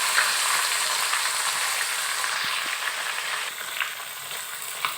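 Fish pieces, heads included, fry in hot oil until reddish-brown, giving a steady, close hiss and crackle that eases off slightly toward the end, with no voices.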